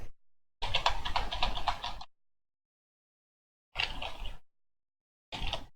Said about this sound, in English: How much of my typing shows up in the stream? I'm trying to fix that. It's so hard with mechanical keyboard.